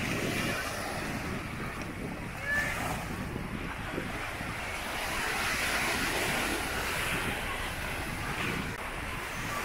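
Sea waves wash steadily along the Ligurian seaside while wind buffets the microphone, a continuous broadband roar swelling and easing over about ten seconds with no voices.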